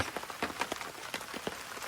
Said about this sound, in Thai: ฝนเทลงมาแล้วนะครับ แต่ไม่ค่อยหนักเท่าไหร่